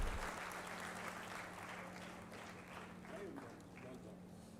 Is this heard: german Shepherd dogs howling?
no